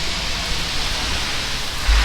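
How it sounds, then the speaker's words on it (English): Light rain falling steadily in Copenhagen, a soft continuous hiss of drops on surfaces outdoors, even and close, with a brief low rumble near the end. "It's raining just a little bit"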